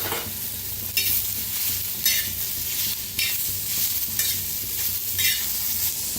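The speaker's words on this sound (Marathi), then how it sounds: "हलकासा कांदा भाजायला लागलेला आहे, त्याच्यातच टाकूया टमाटर आणि कोथिंबीर" Onion, tomato and coriander fry in oil in a pan, a continuous sizzle punctuated by about six rhythmic scraping stirs, close and fairly loud with no talking.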